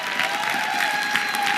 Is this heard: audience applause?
yes